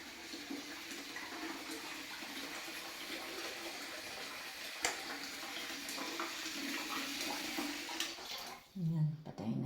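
Water runs steadily from a tap left on indoors in a home, a continuous broadband hiss under occasional talk, then cut off near the end.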